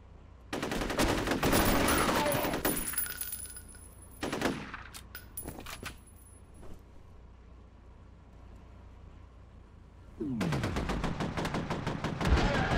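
Rapid automatic gunfire in the shooter video game F.E.A.R., dense sustained bursts that stop, leave a quieter gap with scattered shots, then resume heavily at the end.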